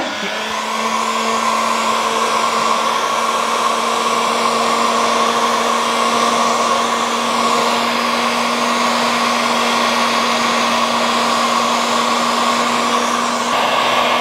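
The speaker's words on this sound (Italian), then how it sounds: "usate un buon phon per capelli caldo" A steady, loud blower drones continuously with a constant pitched whine, like hot air rushing from a heat gun, unchanging throughout.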